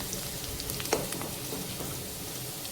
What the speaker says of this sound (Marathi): बघा व्यवस्थित फ्राय झालं आहे आलं लसूण आणि हिरव्या मिरच्या